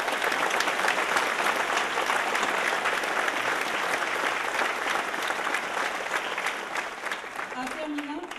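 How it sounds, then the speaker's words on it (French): An audience applauds a pianist at a community cultural evening, sustained dense clapping filling the room for several seconds, steady and loud before easing slightly near the end. "une bonne main d'applaudissements."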